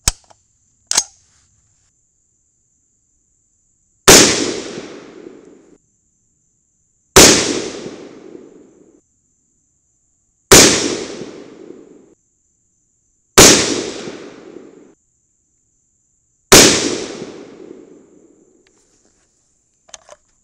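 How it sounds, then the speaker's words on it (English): A .22 Nosler rifle fired without a suppressor: five loud, sharp cracks spaced about three seconds apart, each ringing out into a short decaying echo, preceded by a brief faint click and a small pop. "now 5-shot group without the suppressor"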